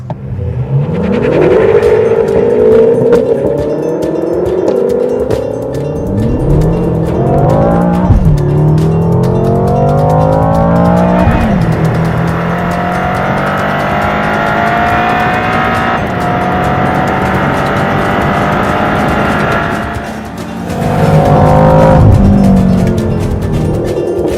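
2013 BMW M5 launching on a race track with launch control, its engine roaring loudly and climbing in pitch through a series of rapid upshifts, with a brief tire squeal, close and sustained with no talking.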